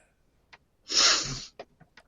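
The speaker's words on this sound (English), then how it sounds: "I'm kind of sniffling here, and it probably sounds gross" A close, breathy nasal burst, like a sharp sniff or snort, stands out between a few faint short breaths and clicks.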